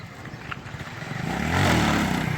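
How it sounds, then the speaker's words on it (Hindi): A motorcycle drifting outdoors, its engine note rising into a louder, sustained roar over a few seconds as it swings through the slide, fairly close with no talk over it. "यहाँ पर क्या ड्रिफ्ट है मारे हैं बाइक पे"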